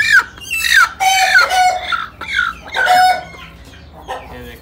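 A hen that has just laid an egg clucks and squawks in a series of loud, close calls, with short gaps between the rising bursts.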